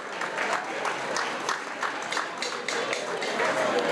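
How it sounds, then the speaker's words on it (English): A crowd at a California legislative honors ceremony applauds continuously, a dense, steady wash of many hands clapping at moderate volume with no pauses. "Let's give him another round of applause there"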